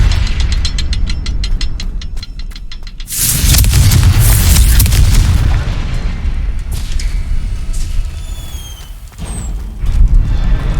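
A fire-blast spell detonates with a heavy, roaring boom inside Rookwood Castle in the Hogwarts Legacy game, following clicking mechanical rattles and fading into a rumbling tail.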